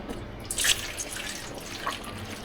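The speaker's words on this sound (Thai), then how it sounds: "ใส่น้ำประมาณหนึ่งลิตร" About a liter of water pours into a pot to start tom yum soup, a soft splashing trickle with a brief louder gush early on, then a steady faint flow with no one speaking.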